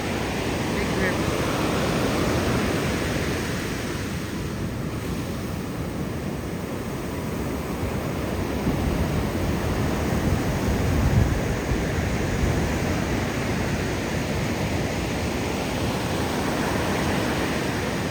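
A large river flowing near the sand at Jaco beach gives a broad, steady rushing roar that fills the whole stretch. It stays constant and fairly loud, with slight swells, like distant surf.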